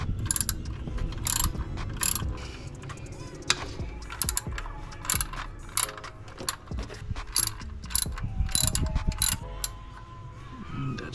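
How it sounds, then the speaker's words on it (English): A 10mm hand ratchet works the screws on the serpentine belt tensioner of a 2005–2009 Mustang GT, giving repeated short bursts of close, crisp clicking with brief pauses between strokes. "with your 10mm, you're gonna want to remove these 3 screws right here"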